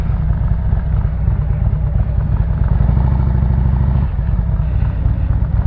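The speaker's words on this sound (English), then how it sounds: "Oh, look, somebody on a motorcycle." A nearby motorcycle engine rumbles loudly and steadily, its low throb swelling slightly as it goes by.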